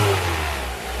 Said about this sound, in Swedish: Motorn i en Skoda Octavia däremot låter så här.